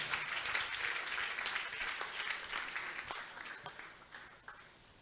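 A church congregation claps for Jesus at a worship service, with distinct hand-clap bursts over a steady wash of applause that gradually thins and quietens toward the end.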